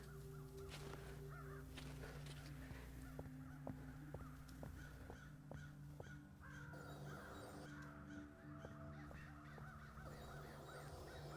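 Crows caw repeatedly around a garbage dump in the Night of the Rabbit video game, harsh calls recurring in short bursts over a steady, dense game backdrop with no talking.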